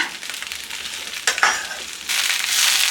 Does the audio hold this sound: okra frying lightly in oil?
yes